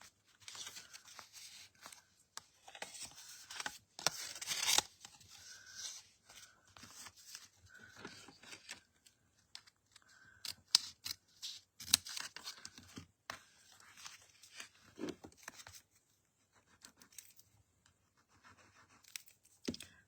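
Paper card is cut with scissors in quiet, close, intermittent snips and scratchy rustles, with small pauses between strokes.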